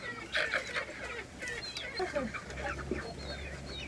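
A chicken clucking nearby, a series of short irregular clucks and cackles with other faint fowl sounds, close and moderately loud, no talking.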